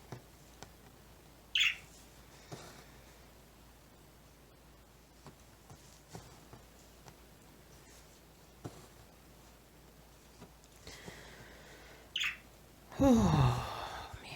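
A few short, high bird chirps ring out sporadically against a quiet room, with soft thumps and rustles between them and a louder squawk near the end.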